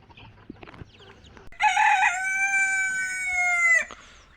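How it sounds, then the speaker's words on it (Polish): A rooster crows once, loud and close, a long drawn-out call after a few quiet scuffling sounds. "Tu mam kurczaki."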